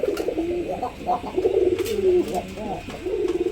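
A pair of pigeons, a Rajgolla paired with a Bangla pigeon, coo repeatedly at close range in throaty, rolling phrases that continue steadily throughout.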